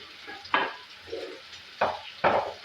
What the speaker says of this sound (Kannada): ಎಣ್ಣೆಯಲ್ಲೇ ಚೆನ್ನಾಗಿ ಫ್ರೈ ಆಗಬೇಕು